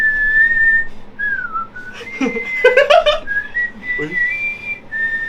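A person whistles a wavering, sustained melody nearby, with brief spoken exclamations and a short burst of other voices partway through.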